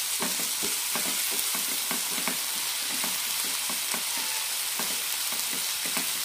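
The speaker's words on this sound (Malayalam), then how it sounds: "ഉപ്പിട്ട് കൊടുക്കുമ്പോൾ പെട്ടെന്ന് നമ്മുടെ തക്കാളി വഴന്നു കിട്ടും നന്നായി ഇളക്കി വെച്ചിരിക്കാം" Tomatoes with turmeric and salt sauté in a pan under a constant soft sizzle, while a spoon scrapes and stirs in a quick, regular rhythm. No one speaks.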